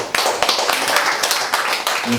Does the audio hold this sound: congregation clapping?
yes